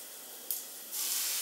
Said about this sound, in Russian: Вот видите, с шипением как раз хорошо.